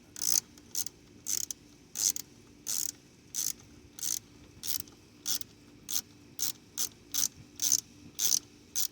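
A ratchet wrench tightens a bolt on a Chevrolet Camaro LS alternator, giving about sixteen short, evenly spaced bursts of sharp clicking, close and clear with no talk.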